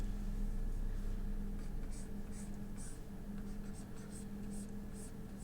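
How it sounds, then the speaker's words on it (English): A pencil sketches a curve on paper while drawing forearm proportions, a continuous soft scratchy rasp that runs steadily throughout, close and fairly quiet. "and then we draw a curve."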